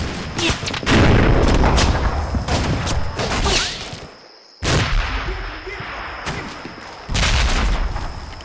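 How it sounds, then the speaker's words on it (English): Mortar fire rains onto a tree line in the war video game Combat Mission: Fortress Italy, a dense rolling fusillade of booming impacts and crackling gunfire that briefly drops away, then resumes in heavy bursts. "mortars fired from my mortar teams on top of KT-1 begin to hit along the tree line"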